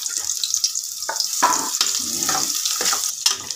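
Onion and garlic sautéing in a pan, a bright sizzling hiss with irregular bursts and spatters throughout.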